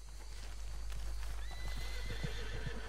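Horses in a roleplay video game neighing and whinnying with clip-clop hooves, a steady game mix over a constant low hum, with no talking.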